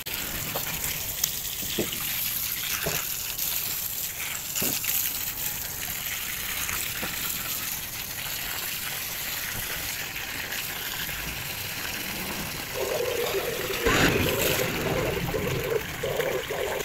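Water is poured steadily into a homemade vegetable fertilizer mix, a long continuous trickle and gush close by, growing slightly louder and fuller toward the end, with no talking.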